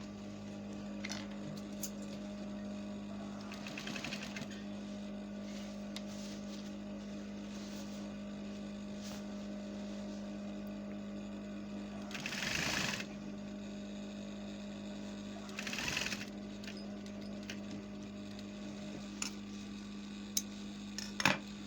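A sewing machine runs steadily with a constant motor hum while stitching a collar onto fabric, joined by a few brief louder bursts of mechanical noise partway through.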